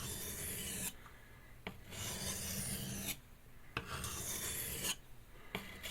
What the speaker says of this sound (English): abrasive characteristics of this stone do all the sharpening